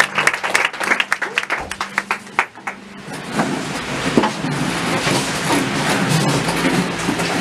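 A church congregation breaks into applause acclaiming the Lord at a Thursday worship service, starting as sharp scattered claps over a low hum and swelling into a dense, sustained wash of clapping and crowd noise.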